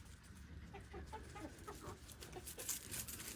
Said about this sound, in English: we got 3 different pens with chickens in it because of the different sizes